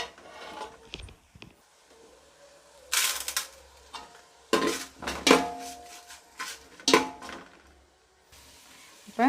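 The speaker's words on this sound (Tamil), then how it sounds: "தக்காளி நல்லா வதங்கணும். கொஞ்சம் உப்பு சேர்த்து வதக்கிக்கலாம்" Chopped tomatoes sautéed with salt in a pan for bone soup, heard as irregular clattering scrapes and knocks of a spatula against the pan in uneven bursts separated by quiet gaps, close and fairly loud.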